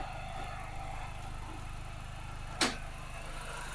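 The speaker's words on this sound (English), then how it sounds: "while we've got the engine running" A 2006 MINI Cooper S JCW engine idles with a steady low throbbing pulse, quiet and even, broken by one brief sharp click partway through.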